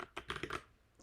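A short burst of typing on a computer keyboard, several soft, close clicks in quick succession, then a pause and one last tap.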